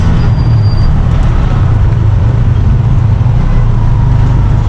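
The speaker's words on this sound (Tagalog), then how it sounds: "Traffic." Road traffic near Batangas heard from close range, a loud, steady low rumble of car and bus engines with a brief high brake squeal early on, no voices.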